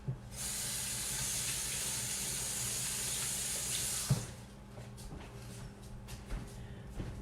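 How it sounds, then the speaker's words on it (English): Tap water runs steadily into a kitchen sink while hands are washed beneath it, a close, even hiss for four seconds before the flow cuts off, followed by faint drips and small handling knocks. "I'm going to wash my hands real quick."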